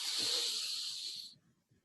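A person in a yoga session exhales in one long, steady breath, loud and close, with a hissing airy rush that fades out after about a second and a quarter, then near silence.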